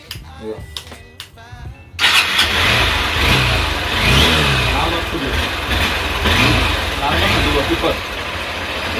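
A BS6 Honda Unicorn motorcycle engine starts after the headlight is switched off and on. Voices are heard first, then the engine catches abruptly at about two seconds and runs with a steady, close mid-pitched idle and slight revving.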